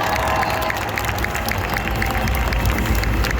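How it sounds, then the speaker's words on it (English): A cosplay contest audience at DreamHack Hannover 2022 applauds a contestant in a steady, dense burst of clapping that holds for several seconds inside a large, busy hall. "A huge round of applause for Tool Creative"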